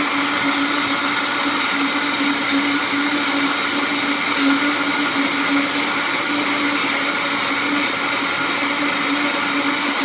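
Vitamix blender running with soapy water inside to clean it, a steady, loud whirring motor drone that holds even throughout with no talking.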